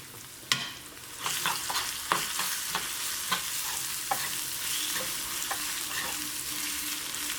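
Grated carrot is stirred into a hot oil tempering with asafoetida in a pan for curd rice, giving a close, soft frying sizzle broken by repeated scraping strokes of the spoon.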